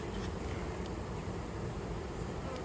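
Honey bees buzz around an opened hive, a steady, dense, close drone filling the air without pause or speech.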